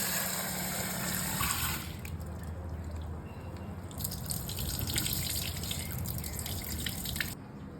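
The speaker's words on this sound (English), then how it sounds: "Rinse them well before soaking." Running water pours and splashes steadily as white lentils, yellow lentils and brown rice are rinsed under a tap, close and continuous, with the flow shifting partway through.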